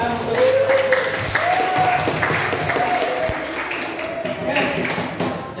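Classroom audience applauding at the close of a school lesson demonstration, a dense steady wash of clapping lasting several seconds with faint voices mixed in.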